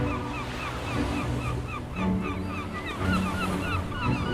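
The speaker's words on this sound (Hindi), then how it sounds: "दूर दूर तक फैला समुद्र और उसके अलावा कुछ नहीं दिखाई दे रहा था।" Steady ocean surf washes along a shore on India's southern coast, a continuous rolling hiss with gentle swells rising and falling, with no voices over it.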